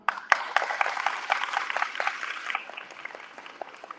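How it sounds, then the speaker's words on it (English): An audience at a school athletic banquet claps for the team, a burst of scattered applause that starts strong, then thins and fades out into a few last claps. "So I want to give applause to everyone in the team right now"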